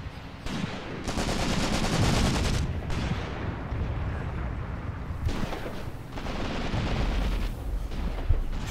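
Artillery fire in the war game Graviteam Tactics: Mius-Front, a dense sustained barrage of booming blasts and crackling shots that runs continuously and loudly with only brief dips.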